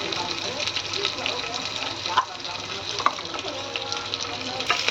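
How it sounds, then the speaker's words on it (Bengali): Chopped carrot, whole garlic, green chillies and ginger sizzling in a pan for chicken soup, a continuous close frying hiss broken by several scraping stirs. "একটু ভালো করে মিক্স করে নেব।"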